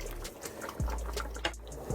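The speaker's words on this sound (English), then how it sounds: "I'm going to put some boiling water in here." Boiling water poured into a pot of red peas soup with cassava dumplings, a short close splash and trickle with a few drips, fairly quiet and heard alone.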